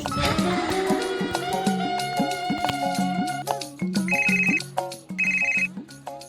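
A melodic phone ringtone plays while a call goes out, its bright tones repeating in short phrases, loud and close with no voices.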